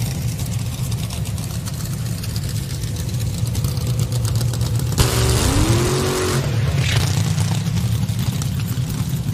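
A top alcohol dragster engine running in qualifying at a drag strip, holding a steady low drone with a brief louder surge midway before settling back.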